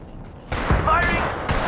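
Gunfire in the Apex Legends video game arrives as a burst of sharp shots and a low thump after a quiet start, continuing as a dense, loud volley with another hit near the end.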